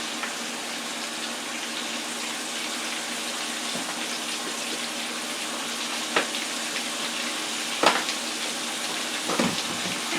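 Chicken stir fry with ground garlic, black pepper and adobo frying in a pan, giving a steady, close sizzle with a few soft scrapes and knocks.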